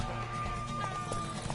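Horse hooves clip-clop in a quick running rhythm in The Witcher III: Wild Hunt, close and steady under game music and ambience.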